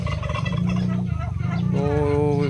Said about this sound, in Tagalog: So itong mga pabo dito